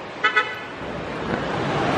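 Two quick car horn toots sound near the start at a busy street corner in Pattaya, followed by a steady wash of passing traffic and engine rumble.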